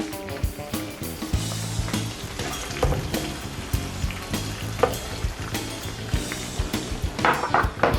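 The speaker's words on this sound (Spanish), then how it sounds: "Y la vamos a dejar freír." Potato pieces frying in oil heated to about 180 degrees, a steady close crackling sizzle with bursts of spattering throughout, with occasional utensil clinks and stirring.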